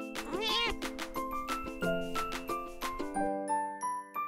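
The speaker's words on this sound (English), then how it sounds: "Cat." A cat meows once, a short rising-and-falling call near the start, heard over a bright, plinking musical backing that continues to the end.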